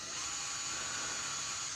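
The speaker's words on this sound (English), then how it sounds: "for which I need to drill a couple of holes. And when drilling metal, even soft metal like copper, slow and steady wins the race" A power drill bores holes in soft copper metal, giving a steady, even whine with a bright, sustained tone throughout the short stretch, close and moderately loud.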